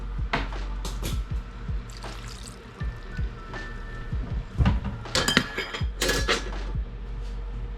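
Creamy chicken fettuccine with egg noodles being stirred with broth in a pot on a stovetop: repeated clinks and taps of a utensil against the pot with light scraping, close by, no talking.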